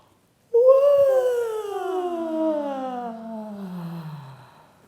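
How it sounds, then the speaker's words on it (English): A long, deep human yawn done as a gentle vocal warm-up: one sustained voiced sigh that starts high, slides slowly downward in pitch, then fades away in a quiet room. "a yawn is a nice, gentle way to warm up our vocal cords and also to warm up our mouth"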